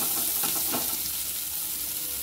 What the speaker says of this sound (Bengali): তেলটা গরম হয়ে গেছে, এবার আমি দিয়ে দিচ্ছি পেঁয়াজ কুচি।